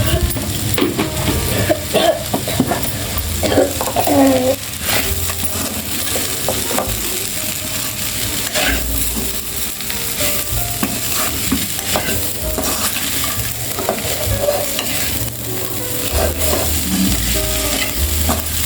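Okra and grated coconut frying Andhra style in a pan, with steady sizzling throughout and repeated scraping and stirring strokes of a spatula against the metal, close and fairly loud, no talking.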